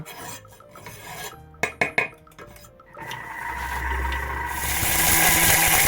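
A kitchen chopper grinds chocolate for cold baklava: a few sharp scraping rasps and clatters, then a steady whirring motor that grows louder and brighter toward the end, with no talk.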